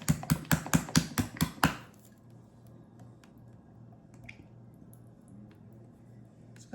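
A bottle of Magic Shell chocolate topping is shaken hard, giving about eight quick, loud, evenly spaced sloshing knocks in under two seconds, followed by quiet room tone.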